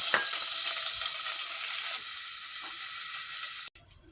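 Dried loitta fish frying in hot oil gives a steady, close hiss and sizzle with occasional stirring, then cuts off abruptly near the end, leaving faint background noise.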